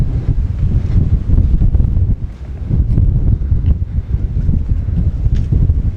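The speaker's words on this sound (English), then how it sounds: "It's very windy." Strong wind on Frenchman's Peak buffets the microphone in a continuous roar with gusty surges and dips, loud and close throughout, with no talking.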